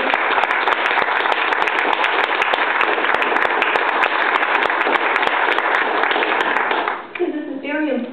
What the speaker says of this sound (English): I would like everyone here to give him a round of applause.